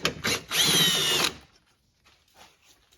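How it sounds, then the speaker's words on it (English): A power drill or driver removes a 10 mm bolt from the battery hold-down bracket of a Toyota Sienna, making a short close whir of about a second after a brief start, followed by quiet rattles. "then get this 10 mil bolt out"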